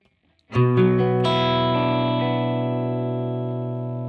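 A single electric guitar chord struck and left to ring through a Boss GX-100 plate reverb, its sustained notes washed in a smooth, lingering reverb that slowly fades.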